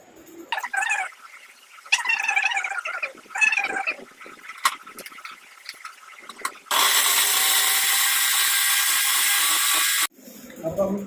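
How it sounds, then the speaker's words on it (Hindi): Electric grinder whirring on dry mint leaves for a homemade bird breeding feed mix, a loud steady burst of about three seconds after scattered clatter and voices, then a sudden stop. "अब हम खुश्क पुदीने को ग्राइंड करेंगे"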